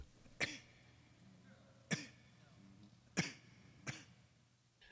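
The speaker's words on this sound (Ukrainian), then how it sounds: "А у мене був ось такий кашель" Four separate harsh coughs, spaced about a second apart, close by against a quiet background.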